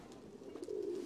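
An imported Pakistani pigeon coos softly close by, a low throaty murmur swelling toward the end, with no voices.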